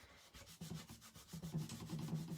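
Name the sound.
rubbing gold foil with a dry baby wipe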